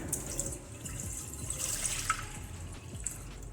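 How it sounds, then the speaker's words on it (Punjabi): Milk poured into a pan on an induction cooktop in a home kitchen for jaggery kheer, a steady soft liquid splashing and trickling throughout, close and fairly quiet, with no talking. "ਆਪਾਂ ਪੈਨ ਦੇ ਵਿੱਚ ਦੁੱਧ ਨੂੰ ਪਾ ਦੇਵਾਂਗੇ"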